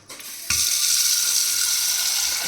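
A tap bursts on after a short click and runs in a loud, steady gush over a pressure cooker for the rest of the moment, close and alone.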